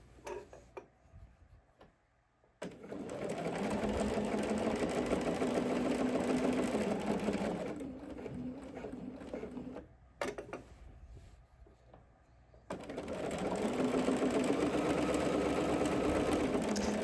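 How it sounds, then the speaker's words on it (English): Sewing machine stitching around a pocket on ponte knit pants, loud steady whirring runs broken by short pauses, starting and stopping several times with a faint ticking hum in the gaps. "I'm gonna sew across the top of the pocket just for a couple of stitches"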